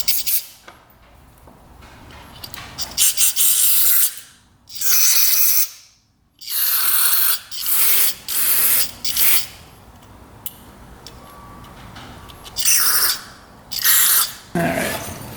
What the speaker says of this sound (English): So we'll blow through this with carb cleaner. Compressed air here.